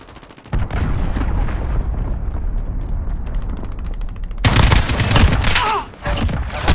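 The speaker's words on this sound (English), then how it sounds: "Allied cruise missile launched." Cruise missile launch and blast in Call of Duty Modern Warfare multiplayer, heard as a steady rumbling roar that bursts into a louder, crackling explosive barrage near the end amid distant gunfire.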